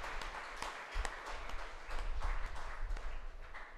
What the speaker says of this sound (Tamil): கைத்தட்டி ஆண்டவருக்கு நன்றி சொல்லுவோம்.